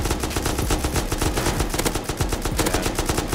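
Rapid automatic gunfire in the survival game Rust rattles in a fast, even stream of loud, close shots that does not let up.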